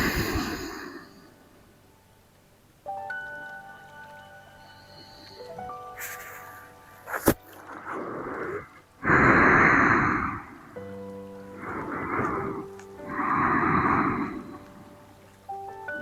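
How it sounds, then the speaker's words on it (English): Slow, deep breaths drawn in and out through the nose during a yin yoga session, heard as several soft, airy swells spaced a few seconds apart over gentle background music. "breathing deeply in and out through your nose"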